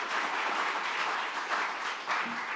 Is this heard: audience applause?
yes